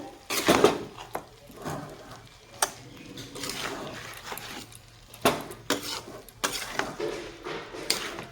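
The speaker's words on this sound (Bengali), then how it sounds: "ধনে গুঁড়া আর জিরার গুঁড়া সবগুলো মশলার সাথে আমি একসাথে কষিয়ে নেবো" A spatula scrapes and knocks against a pan while coriander and cumin powder are sautéed with other spices, making irregular clinks and scraping bursts separated by quieter gaps.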